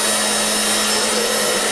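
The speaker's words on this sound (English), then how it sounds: "This one's got a hairdryer pointed at it on high" A hair dryer blows continuously on high at a bowl of water, a steady loud whooshing roar with a constant motor hum and no breaks.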